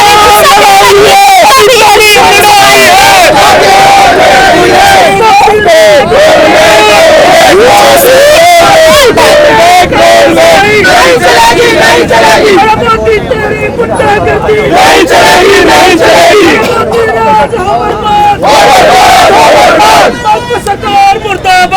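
A large, angry crowd at a protest over a UGC law, shouting and chanting slogans loudly and continuously, a dense close roar of many voices with traffic noise beneath.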